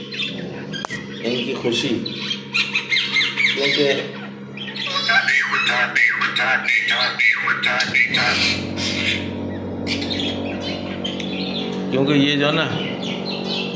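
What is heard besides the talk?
pet parrots squawking and chirping in a cage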